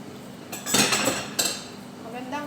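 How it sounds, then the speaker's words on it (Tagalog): Plates and cutlery clatter while dishes are washed after a household meal, a few bursts of clinking and scraping near the microphone, with quieter rattling between them and no talk. "Magugas muna po ako ng plato."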